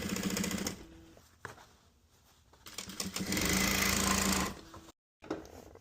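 A sewing machine stitches together the pant legs of pants made from 1980s hunting overalls. It runs in rapid, buzzing bursts of stitching, separated by short pauses and a brief silence.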